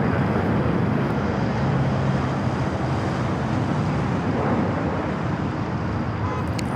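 A jet airliner taxis toward the Tom Bradley terminal gates at Los Angeles LAX airport, giving a steady broadband engine roar with a low drone and wind noise that hold nearly constant throughout.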